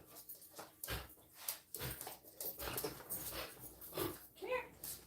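A Pomeranian whimpers and yips in short, soft bursts, close by, mixed with patter and panting and interleaved with a person talking.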